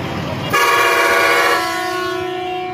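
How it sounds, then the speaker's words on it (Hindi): A loaded goat transport truck departs for Karachi and gives a loud, sustained horn blast of about a second, its tone trailing off into a steady engine drone. "ये कराची की गाड़ी है, ये जा रही है गाड़ी।"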